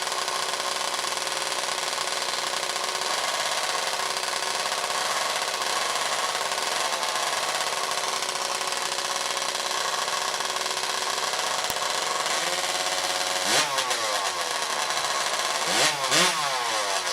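A racing chainsaw at a professional timbersports championship roars steadily and very loudly, a dense, buzzing two-stroke drone like a motorcycle, with sharp revving surges near the end.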